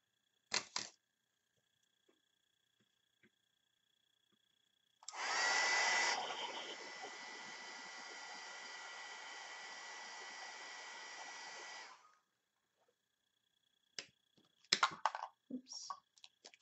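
A hair dryer blows on a wet mixed-media card for about seven seconds, with a loud start that settles into a steady whir. Brief clicks and handling noises come before and after it.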